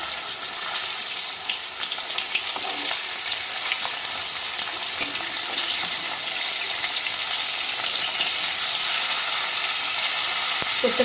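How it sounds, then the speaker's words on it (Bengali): Spiced hilsa fish fries in hot oil in a wok over a medium flame, giving a loud, continuous close-up sizzle and hiss that stays even throughout with no one talking. "মিডিয়াম ফ্লেমে রেখে ভেজে নেব।"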